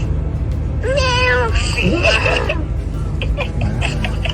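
A small child gives a high, wavering meow-like cry imitating a cat, followed by brief vocal sounds over a constant low hum.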